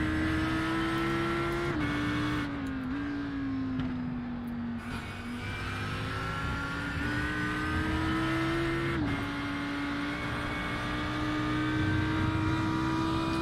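An Audi R8 GT3 race car in iRacing laps the Spa circuit, its engine a loud, continuous drone that rises steadily through the gears, with a brief drop as it lifts and shifts, running alone without talk.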